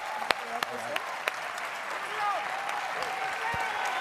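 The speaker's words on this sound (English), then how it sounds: "Please give him a huge round of applause." An audience applauds at a political summit, a soft, steady patter of many hands with a few sharper claps early on, heard from some distance at moderate volume.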